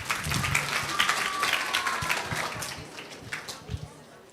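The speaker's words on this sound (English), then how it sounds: "Okay, applause." Audience clapping fills the room steadily throughout, a dense patter of many hands at moderate volume that slightly thins toward the end.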